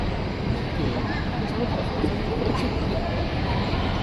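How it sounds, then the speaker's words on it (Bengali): Train at a large airport in China, heard as a steady close rumble of rail cars rolling along the track, continuous with no breaks, with faint voices mixed in. "এই পাশেও দেখি ট্রেন আছে।"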